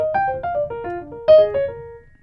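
Twisty jazz melody played on piano: a quick run of single clear notes weaving up and down, one brighter accented note near the end, then a held tone fading out, close and solo.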